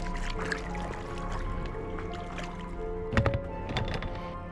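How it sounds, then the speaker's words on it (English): A small rowboat is rowed up a narrow, tree-choked river in Tasmania's wild southwest, with low steady rumble, soft watery squishes and a few louder splashing oar strokes near the end, close by and without talk. "I try to row, but the river becomes narrow."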